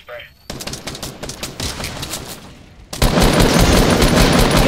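Rapid automatic gunfire from a Fortnite match, loud and close, in sustained bursts with a short lull before a denser, louder volley; a voice talks briefly amid the shots.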